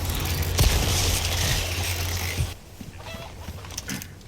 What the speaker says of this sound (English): Did you see that chicken?